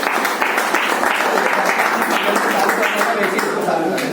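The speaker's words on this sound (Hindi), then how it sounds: "एक जोरदार तालियां होनी चाहिए" Loud, steady applause from a crowd, sustained clapping filling the whole stretch with a voice mixed in underneath.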